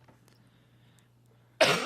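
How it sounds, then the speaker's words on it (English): A single sudden, loud cough bursts out after near silence, close to the microphone, during a music review show. "made it through that whole thing without coughing, and then, boom, right at the end"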